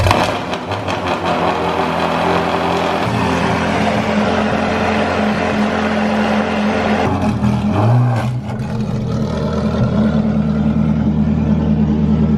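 Parked Ferrari and Maserati cars are driven out of the way, their engines idling and revving steadily up close with low rumbling tones and a brief throttle swell midway.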